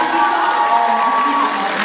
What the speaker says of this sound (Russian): Итак, ну что, девушки, вам аплодисменты